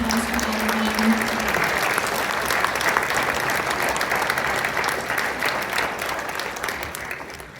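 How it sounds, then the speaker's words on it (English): Audience applause for a school band at a spring concert in the Wellsboro Area School District, a sustained, full round of clapping from a large crowd that stays steady and then tapers slightly toward the end. "Let's give a round of applause for all of them."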